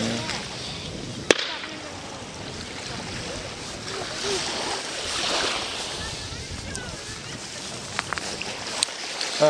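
Black Sea surf washes onto the shore at the Anapa resort on a sunny January day. The waves roll in as a continuous rushing wash, with wind buffeting the microphone and a few sharp knocks.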